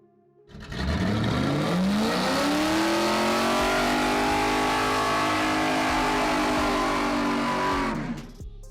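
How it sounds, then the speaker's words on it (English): A Dodge Charger engine revs up sharply from idle, its pitch rising into a loud, sustained roar that holds for several seconds before cutting off abruptly. "Now, let's rev it up."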